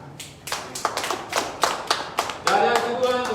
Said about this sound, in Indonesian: Yang percaya katakan amin dan tepuk tangan untuk Tuhan.